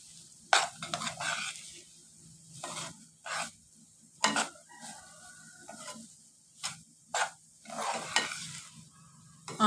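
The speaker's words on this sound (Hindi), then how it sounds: "अब इसमें डालेंगे सूजी और सूजी को साथ साथ चलाते जाएंगे" Semolina is roasted in hot ghee over a low flame for puri-style halwa. Repeated scraping spoon strokes come at an uneven rhythm against a soft, quiet sizzle in a near, calm kitchen.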